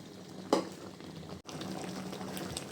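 Mango pickle simmers in a pan with a low, steady bubbling hiss, interrupted by one brief louder clatter and a short dropout before the bubbling resumes alone.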